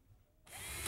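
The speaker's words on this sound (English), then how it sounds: "screwing the top plate to the header." A power drill drives a screw through a closet's top plate into the header, a whine that starts abruptly halfway through and holds steady, loud and close.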